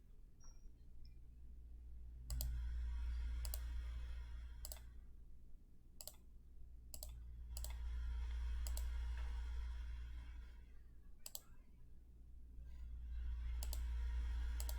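Bursts of quick, light clicking from typing on a computer keyboard while working through algebra homework, arriving in short irregular runs separated by pauses, faint and close over a steady low hum with no talking.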